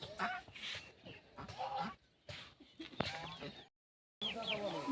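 Domestic geese, one white and one in front, give honking calls up close between bursts of a person talking, with a brief silent gap.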